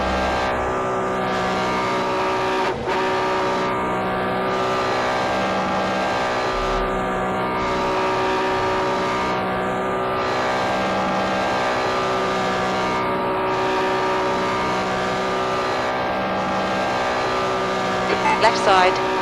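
A damaged race car engine in a 1964 Targa Florio racing game drones loud and steady with a harsh, uneven tone, pulsing slightly in a regular pattern throughout.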